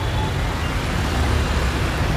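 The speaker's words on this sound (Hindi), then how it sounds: "और अब देख सकते हैं इतना ट्रैफिक मचला है इधर" Traffic jam on a flooded Bhiwandi street, a dense, steady roar of idling and crawling cars, buses and trucks close by, with no gaps and no voices.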